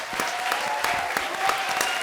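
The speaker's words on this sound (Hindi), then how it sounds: "एक बार हमारे आज के स्पेशल गेस्ट सनी लियोन और सचिन जोशी के लिए जोरदार तालियां हो जाएं." A studio audience claps loudly for special guests on an Indian comedy show, a short burst of dense, even applause with crisp individual claps audible.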